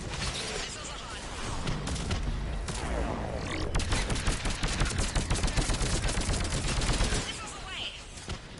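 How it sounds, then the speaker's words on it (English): Missiles and rapid gunfire from a Mass Effect battle rattle in a dense, loud barrage, continuous sharp shots layered over explosive rumble, easing slightly near the end. "Missiles away. That's it for the missiles. Switching to the gun."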